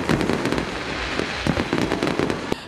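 Fireworks bursting at a night festival deep in Polesia, a dense, continuous crackle of sharp pops and booms repeating irregularly, loud and close, with no voices.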